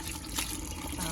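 Water pours and splashes steadily while a Labrador is bathed, a faint, continuous trickling wash with no talk over it.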